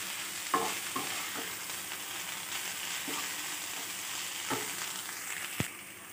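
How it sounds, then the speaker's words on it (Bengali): Cabbage being stirred and fried in a pan for cabbage pulao, a steady sizzle with scraping stirs and occasional sharp clinks of the spatula against the pan. "মোটামুটি এক মিনিট মতো আমি ভাজা ভাজা করে নেবো কপিটাকে দিয়ে,"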